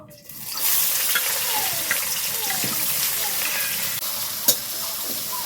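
Sliced onion dropped into hot oil in a pan with dried red chilli, whole garam masala and bay leaves, sizzling in a loud, steady hiss that starts abruptly and carries on with faint stirring clicks.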